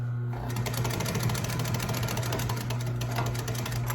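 An upholstery sewing machine stitches a cover, running continuously with a loud, steady mechanical hum and rapid rhythmic needle clatter, close by.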